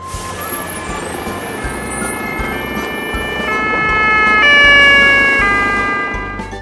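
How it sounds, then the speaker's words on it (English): A police bus siren sounds over a continuous rumble, with steady wailing tones that hold and step between pitches and swell louder toward the middle before easing off. "Police bus."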